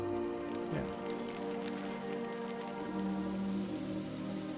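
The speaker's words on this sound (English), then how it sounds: "So you can hear the rain." Rain ambience from the video game Book of Hours, a steady, dense patter of drops on surfaces layered with a soft, sustained musical tone, continuous and even with no talking.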